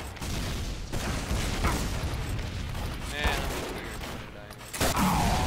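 Video-game gunfire rattles on the Hightower map in rapid, continuous bursts and thumps, fairly loud, with a player talking over it.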